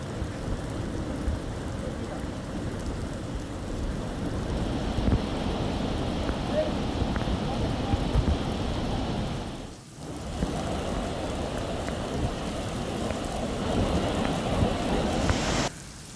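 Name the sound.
flooded river flowing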